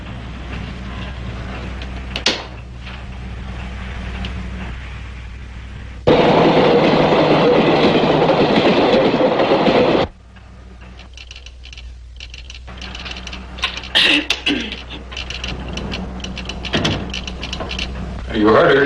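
A train rumbles through a station in a Highway Patrol television drama, swelling to a loud, dense roar for several seconds before cutting off, surrounded by quieter scene noise and clatter.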